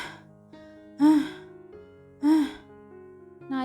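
A woman gasps sharply and pants in a dramatized audio story, with two loud breath bursts over a soft sustained music bed.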